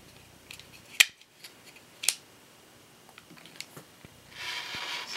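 Scissors cutting through a t-shirt: a few sharp, close snips spaced apart, with quieter fabric rustle and small clicks between them, ending in a soft swishing of cloth, with no talking.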